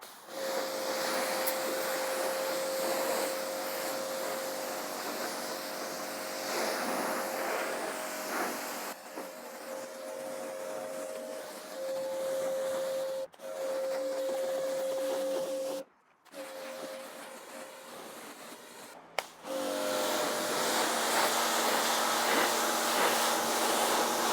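A pressure washer rinsing dirt off a car, a steady droning hiss with a constant motor hum that runs for long stretches and cuts out briefly a few times before restarting, close by with no talking.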